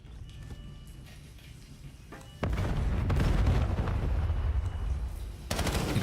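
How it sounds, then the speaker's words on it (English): Explosions and gunfire in a Call of Duty League esports match: rumbling booms and rattling shots rise sharply partway through and roll on loudly, with another burst near the end. "Explosions ringing out on the other side of the map"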